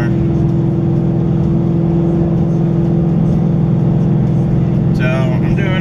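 A 2015 Mustang GT with a Stainless Works exhaust cruises at about 85 mph and 2,500 rpm, giving a loud, steady low engine drone with road and wind noise throughout.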